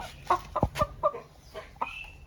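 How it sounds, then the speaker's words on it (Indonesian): A hen clucks in a series of short, close, irregular calls, with a few sharp clicks or knocks among them and no talk. "Nih ayam betinanya."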